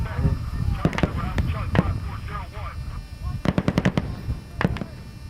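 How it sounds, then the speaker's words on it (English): Military live-fire training with gunfire and artillery, sharp close shots and quick bursts in clusters, with booming reports and a voice speaking over part of it. "we're conducting live fire training and Jamar's calling in the grid coordinates."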